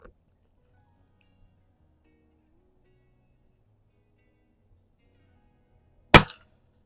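One sharp, punchy shot from a Pinty .22 caliber PCP bullpup air rifle, firing 22 grain JTS pellets at a range, cracks out after several seconds of near silence and then dies off quickly.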